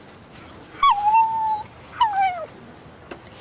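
A dog whimpers in two drawn-out, high whining cries about a second apart, close and clear over a quiet background.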